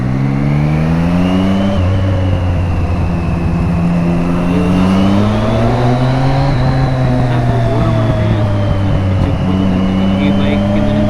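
A Triumph Street Triple 675 motorcycle with about 5,000 km on it rides through traffic, its engine droning loud and close as revs rise and fall steadily, with rushing wind throughout.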